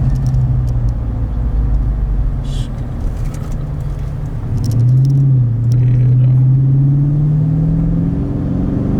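Dodge Challenger Scat Pack Widebody fitted with a loud aftermarket exhaust, idling with a deep, steady rumble close by. Midway through it revs up into a rising, throaty drone and holds there.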